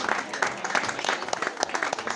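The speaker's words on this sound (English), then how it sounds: "Big round of applause for the band," Audience applause for a country band at a live concert in a Stockholm club, a dense steady clapping that fills the room and carries on without letup, with a voice faintly mixed in.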